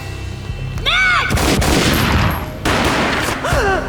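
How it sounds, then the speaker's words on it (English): Gunfire bursts out in Max Payne, loud and close, with rapid booming shots over a couple of seconds that come amid swooping game sounds and a voice. "A gunshot boomed and she fell down in slow motion."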